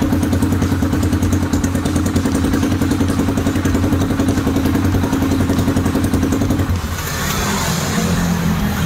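Motorcycle exhaust from a 3 mm-walled, 43 mm-diameter pipe, a loud, steady idle with close, continuous burbling rumble that suddenly shifts and drops in tone near the end, no talking.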